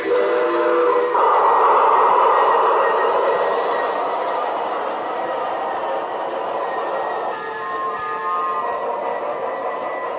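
A rumbling model train sound effect with a sustained whistle-like tone runs continuously, fairly loud and steady, shifting pitch partway through.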